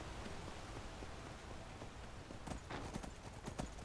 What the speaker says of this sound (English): This is even going to be longer on a horse.